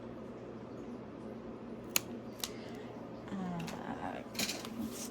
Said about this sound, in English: I'm going to take my little scissors here and just kind of trim that off.